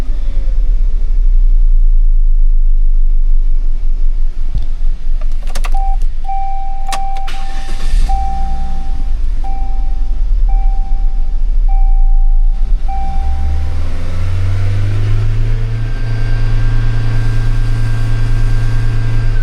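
Engine of a junkyard-quality used car revving loud and close, sustained roar with a whine rising and falling as the throttle eases off and comes back on, swelling toward the end.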